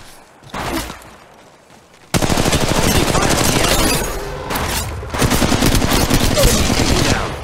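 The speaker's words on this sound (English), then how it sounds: "I am taking fire, friends." Rapid automatic gunfire bursts in the mobile shooter game Apex Legends Mobile, a few muffled shots first, then dense, loud sustained volleys with brief pauses, mixed with game effects and a faint voice.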